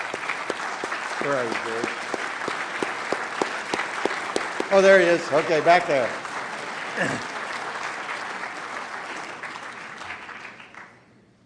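An audience applauds steadily for several seconds, a broad wash of clapping that fades out at the end, while someone briefly speaks over it.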